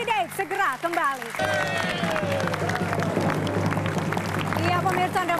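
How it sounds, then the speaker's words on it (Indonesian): A television studio audience applauds Rizal Mallarangeng on a talk show, with steady clapping over music that continues under a speaking voice. "tepuk tangan untuk Rizal Malarangeng"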